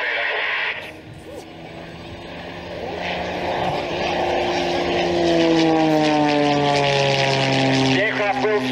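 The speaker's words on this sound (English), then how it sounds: "The aircraft will fly. It's got a 300 horsepower engine." A 300 horsepower propeller aerobatic aircraft flies at an air show, its engine drone rising and shifting in pitch as it passes, loud and building, with a commentator talking over the public address.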